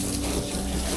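Water sprays steadily and broadband onto the underside of a motorcycle on a hydraulic lift, a continuous close hiss with no pauses.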